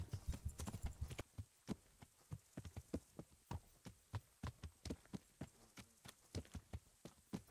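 Horse hooves clip-clopping in the medieval video game Kingdom Come Deliverance, a steady rhythmic stream of distinct hoofbeats, fairly close and alone, with a quick cluster near the start.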